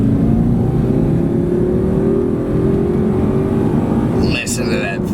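Strong, steady engine roar of a 2005 Audi S4 Quattro convertible with a 40-valve V8 pulling hard under acceleration, the pitch rising steadily over several seconds, loud and close, with a brief voice near the end.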